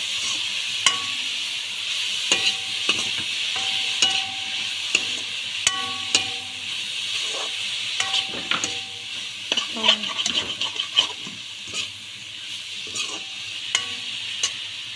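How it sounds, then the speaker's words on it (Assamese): Dried radish fries in a pan while a utensil stirs and scrapes it, a steady sizzle broken by repeated clinks and scraping strokes, close and fairly loud. "তাৰপিছত শুকান মূলাখিনি বহাই দিলোঁ। সেইখিনি অকণমান ভাজি ল'ম।"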